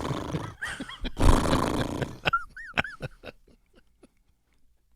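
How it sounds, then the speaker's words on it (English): A horse whinnies in a series of rising and falling cries, the calls loud at first then trailing off into quieter bursts, heard alone over faint background noise. "Is that a horse?"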